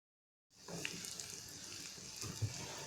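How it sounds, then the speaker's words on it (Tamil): Tamarind is worked by hand in water, giving soft sloshing and squishing that starts after a brief silence and carries on faintly and steadily at close range. "நம்ம எடுத்து வச்சுருந்த புளியை வந்து நல்லா கரைச்சி எடுத்துக்குவோம்"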